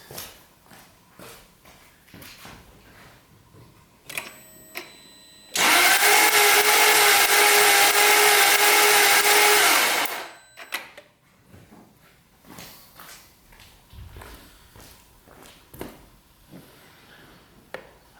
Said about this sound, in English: Let's crank it over and hopefully we get some reading at least.